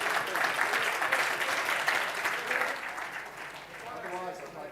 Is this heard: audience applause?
yes